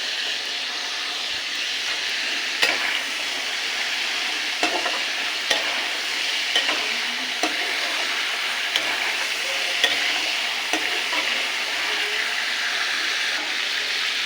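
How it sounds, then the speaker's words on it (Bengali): Chicken biryani mixture with fried potatoes and fried onions sautéing in a pot, a steady close sizzle with scattered stirring scrapes and clicks, no voices. "এটাকে একটু কষিয়ে নেব।"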